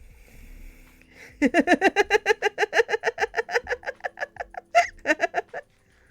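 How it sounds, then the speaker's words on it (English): A pet chicken named Henry clucking close by, a quick run of about twenty loud, evenly spaced clucks that speeds up slightly, with one louder squawk near the end after a quiet start. "We got a chicken named Henry."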